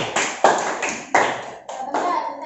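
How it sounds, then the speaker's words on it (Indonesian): A classroom group of students claps in applause, several distinct bursts of hand clapping in quick succession, close and fairly loud, with no talking. "beri tepuk tangan untuk kelompok"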